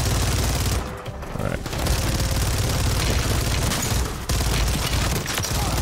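Sustained automatic gunfire rattles through a Call of Duty: Modern Warfare zombies fight, loud and near, with only brief pauses between long bursts.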